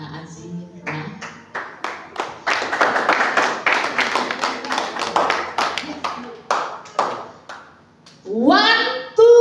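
A church congregation at a Sunday service claps hands in a quick, uneven burst of many overlapping claps that builds and then thins out, with voices speaking over it and a short sung or spoken phrase near the end.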